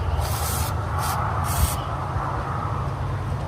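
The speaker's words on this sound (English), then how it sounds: "I'm just gonna spray a little WD-40" WD-40 is sprayed onto nuts during a drive shaft CV joint replacement on a 2017 Honda Pioneer 500, with three short hissing bursts close by over a low background rumble.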